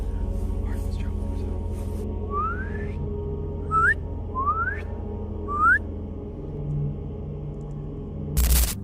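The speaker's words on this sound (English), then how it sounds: "a distant whistle cutting through the night" A distant whistle sounds repeatedly through the night at a campsite, four short rising tones spaced a second or two apart, faint over a low steady hum, with a sharp burst at the end.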